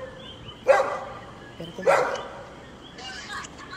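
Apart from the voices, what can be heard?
dog barking upstairs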